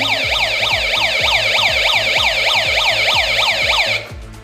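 A rising and falling two-tone wail from an electronic kit imitating a fire engine siren, repeating rapidly and loudly for about four seconds before cutting off.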